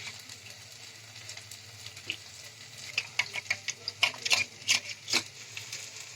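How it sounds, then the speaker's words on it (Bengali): A spice mix is being stirred into meat stock saved from boiled minced meat for a potato and keema dum. Quiet liquid swirling gives way to a run of sharp spoon taps and clinks against the bowl. "এই স্টকের জলটা দিয়ে মশলাটা আমি গুলে নিচ্ছি"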